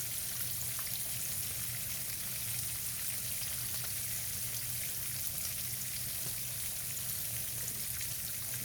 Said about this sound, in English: the bread is toasting beautiful